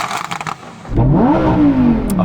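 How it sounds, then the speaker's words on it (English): A Lamborghini Huracán STO's naturally aspirated V10 is blipped close up after a brief quiet spell, its loud rev rising sharply and holding high before easing off. "I'm going to rev up my engine first, a naturally aspirated V10."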